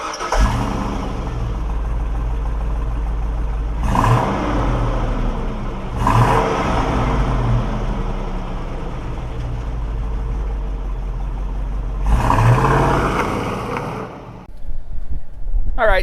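A 2003 Chevy Suburban 2500 4x4 engine drones steadily while driving on the road, with low rumble and road noise throughout and a few brief swells as it accelerates.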